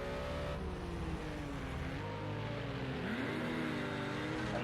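Ginetta race car engine droning and shifting pitch as it accelerates, with other engines layered underneath, fairly faint and continuous throughout.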